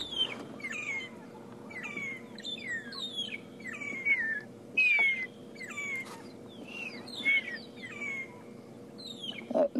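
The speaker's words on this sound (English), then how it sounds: "there's also a family of magpie shrikes that are chirping away" A family of magpie shrikes chirps in a busy, repeating chorus of sharp descending calls during the dawn chorus in Sabi Sand, close by and continuous.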